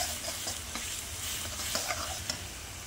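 Onions frying with salt in a pan while being stirred and turned, a continuous close sizzle broken by soft scraping strokes and small crackles, with no voices.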